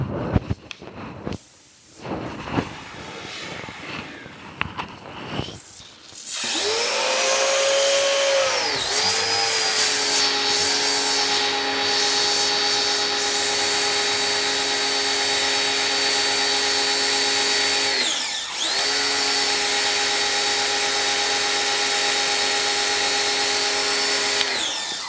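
An AR Blue Clean pressure washer whirs loudly and steadily after some handling noises, a sustained electric pump drone with a brief dip in pitch partway through before resuming at full power.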